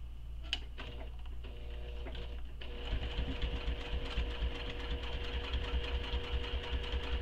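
A sewing machine runs steadily, stitching a wristlet bag with a slightly long stitch and no backstitching, its motor whirring and needle chattering in a continuous close rhythm after a few brief starts.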